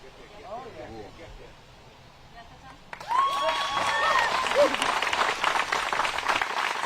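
A crowd and fellow players at the 2023 PDGA Disc Golf World Championships break into sudden applause and cheers after a shot. The burst starts abruptly partway through, after quiet outdoor ambience with faint talk, and stays loud and dense.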